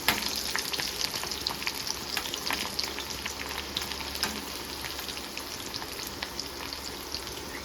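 Dry red chillies, cumin seeds and curry leaves temper in hot oil for a Telugu tomato rasam, giving a steady, dense crackling sizzle with scattered sharp pops throughout, close and moderately loud, with no one speaking.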